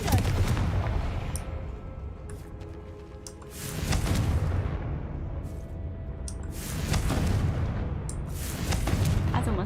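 Confringo fire spells blasting in Hogwarts Legacy: loud, booming fiery bursts in several surges, each swelling into a crackling roar before easing off, with sharp flicks between them.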